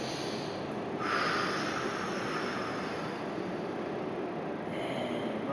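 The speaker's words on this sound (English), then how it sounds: "Deep breath in." A slow, deep breath taken during a lower-body stretch, a steady airy rush close to the microphone that swells briefly before settling into a long, even exhale.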